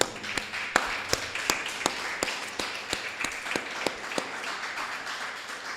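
Church congregation applauding the Lord during a sermon: a steady run of sharp, evenly spaced claps over a low room murmur, with no voices.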